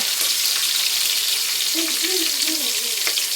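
Onions fry in a pan with a continuous close sizzle, and a few faint stirring scrapes come through near the end.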